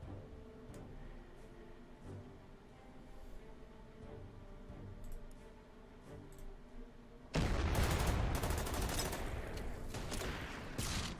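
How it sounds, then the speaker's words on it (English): Artillery shelling in the World War II strategy game Order of Battle: a low rumbling of distant booms, then a sudden loud stretch of dense, rapid blasts and gunfire that continues to the end. "Shelling it from this side is probably the best thing I can do with my own artillery"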